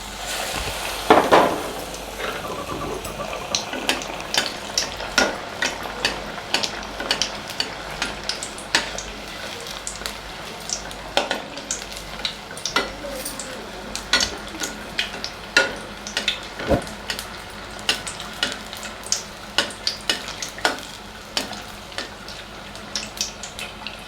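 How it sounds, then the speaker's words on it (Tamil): Chili bajji (battered green chilies) frying in hot oil, a continuous close sizzle broken by frequent sharp clinks and scrapes of a utensil against the pan, with no talking. "இப்போது எண்ணெய் நல்லா ஹீட் ஆகிடுச்சு. பஜ்ஜி போடலாம்."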